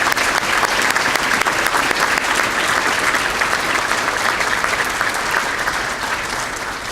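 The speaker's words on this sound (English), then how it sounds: "Let's give them a round of applause" Sustained applause from a seated audience at a police department employee-of-the-year awards ceremony, a steady dense roar of many hands clapping throughout, tapering slightly at the end.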